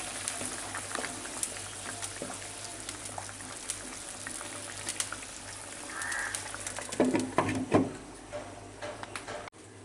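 Lentil bori simmer in a pan of fish curry broth with a soft, steady bubbling, punctuated late by a few louder clatters and sputters before cutting off.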